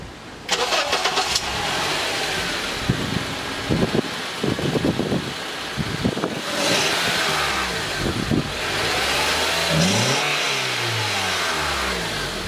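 A car engine starts and is revved in short, loud bursts after the owner's first modification. Between blips it settles into a steady idle, heard close up outdoors.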